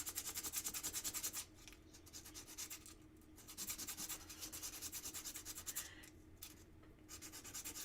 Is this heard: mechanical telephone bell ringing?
no